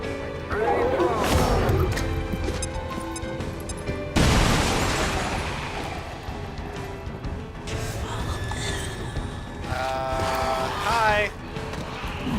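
A grenade blast in XCOM 2 with a Halo-themed mod goes off as a sudden loud boom partway through, then a crashing, rumbling tail under game music and effects.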